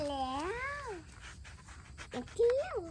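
A cat meows in a drawn-out, rising and falling call, then gives a shorter second meow a moment later, close by on a Thai pomelo farm.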